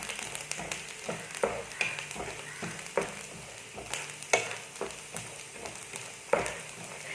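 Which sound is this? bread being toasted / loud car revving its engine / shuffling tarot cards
bread being toasted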